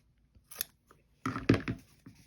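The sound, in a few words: scissors cutting off extra piece of fabric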